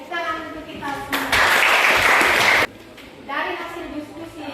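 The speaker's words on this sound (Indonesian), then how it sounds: "Tepuk tangan untuk kita semua" Pupils in a classroom break into about a second and a half of loud group hand-clapping, with a voice speaking before and after the burst.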